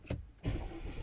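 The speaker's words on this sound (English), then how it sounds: "let's quickly start a car" Car engine starting during a cold-start check: a brief cranking burst, a short pause, then the engine catching and settling into a steady idle, faint and close.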